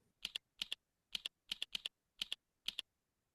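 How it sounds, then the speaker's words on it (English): Keystrokes on a computer keyboard while typing into a document, seven short bursts of paired clicks in an uneven rhythm, close and clear against near silence. "Start typing in a document."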